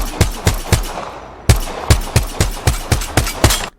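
Rapid automatic gunfire from Apex Legends, loud and close: one burst of about four shots, a short pause, then a steadier string of roughly ten evenly spaced shots with no talk over them.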